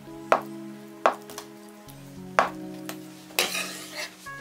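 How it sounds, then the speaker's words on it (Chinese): A knife cutting tofu into small pieces on a board, four distinct sharp chops spaced about a second apart, the last followed by a brief rustling scrape, close and clear over a faint steady hum. "从中间再切一刀，切成小块"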